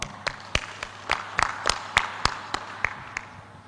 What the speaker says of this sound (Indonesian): Aplaus buat Pak Kapus nih